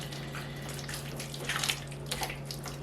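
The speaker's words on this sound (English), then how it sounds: "I'm gonna wash the bottle." A bottle is washed under running tap water, a steady close hiss of flowing water with faint splashing and a low hum underneath.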